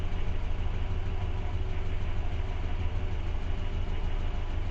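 An old car engine idles steadily after an engine-cleaning treatment, with a low, even rumble and a faint rattling texture, with no other sounds.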